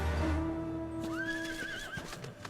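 A horse mount in Final Fantasy XIV gives a clear, drawn-out whinny with a rising, wavering pitch, over a steady game soundscape with faint hoof clops near the end.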